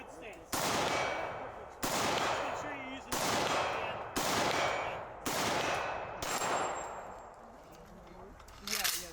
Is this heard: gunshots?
yes